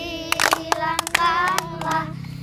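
Congregation clapping hands in rhythm during a worship song, a handful of sharp claps over singing and instrumental music.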